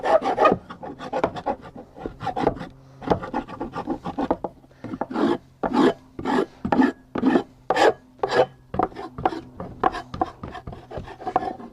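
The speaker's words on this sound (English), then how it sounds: "the very thing that makes this dough scraper work well on this type of dough box, the fact that you can get into the corners and scrape it out" A dough scraper rasps out the corners of a wooden dough box in a run of about twenty quick, close, loud scraping strokes in an uneven rhythm, with no talking.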